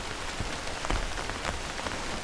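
Rain falls steadily on a quiet street, a dense even hiss with scattered louder drops, nearby and continuous with no voices.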